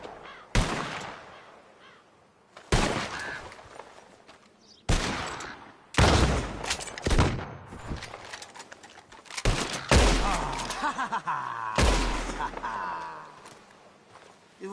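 Gunshots fired at flying birds in Red Dead Redemption 2, several loud separate blasts spaced a second or two apart with echoing tails, crows cawing between them and a voice speaking in the background.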